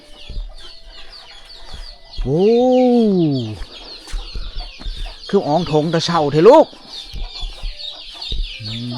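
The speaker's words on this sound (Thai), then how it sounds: "เสียงเป็ดเสียงไก่" Chickens and ducks at a rural homestead in southern Laos on a damp morning: two drawn-out crowing or honking calls rise over scattered clucks and yard noise. A person talks on and off throughout.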